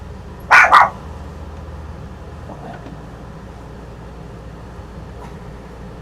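A dog gives two sharp, loud barks in quick succession near the start, close by, followed by a low steady room hum.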